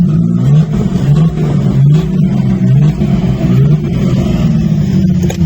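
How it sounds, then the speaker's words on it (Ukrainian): Engine of a used BMW E28 2.0 petrol car held at a steady, loud idle-to-rev drone, with a rhythmic low throb pulsing throughout and no pauses. "А ну газуй!"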